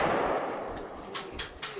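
Gunshots at an outdoor shooting range during a freedom festival, sounding as three sharp, fairly distant cracks in the second half, spaced about a quarter second apart over steady background noise.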